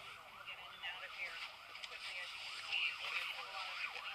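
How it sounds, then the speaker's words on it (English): Emergency vehicle sirens wail along a city street in Pittsburgh, a repeating rise-and-fall cycle at moderate distance, with someone speaking over them. "You'll hear sirens still moving down here right now."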